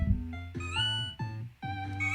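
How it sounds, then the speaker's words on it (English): Cats meowing unusually, three or four close, drawn-out meows with bending pitch, each separated by brief pauses, with no talk over them. "Unusual meowing from the cats here."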